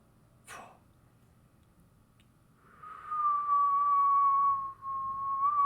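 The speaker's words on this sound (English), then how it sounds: "You hear the whistling of something falling." A long, thin whistle of something falling, heard in a Rime of the Frostmaiden game, comes in after a quick soft click and holds for nearly three seconds, dipping slowly in pitch against near silence.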